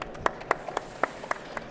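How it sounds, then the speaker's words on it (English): A small scattered round of applause from a few people, with sparse individual claps spread out over a couple of seconds, fairly faint and with no voices. "I think that deserves a round of applause."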